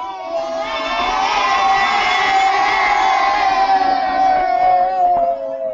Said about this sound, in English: Give me a wave and a cheer in your classrooms if you knew that raisins were the French word for grape.